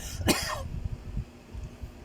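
A single sharp cough near the start, followed by quiet low rumbling and room noise.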